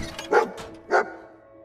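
Dogmeat, the dog in Fallout 4, gives two short close barks about half a second apart, with quiet game ambience between and no talk.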